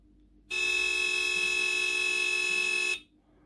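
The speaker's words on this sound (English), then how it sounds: "we can have a Dixie horn. Let's sample that." A loud, sustained Dixie horn blast from an RC vehicle sound system holds one bright, buzzing tone for about two and a half seconds, then cuts off.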